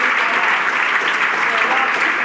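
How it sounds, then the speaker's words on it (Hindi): Loud, dense applause from a college audience, cheering a child who answered a question, a steady sustained roar of many hands clapping close and full throughout. "जोरदार तालियां इस बच्चे के लिए।"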